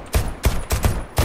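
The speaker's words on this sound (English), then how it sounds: "Why are you shooting me?" Gunfire in the Deceit 2 video game: four loud, sharp bursts of shots in quick succession, each a punchy crack with a brief tail, close and clear with no talking.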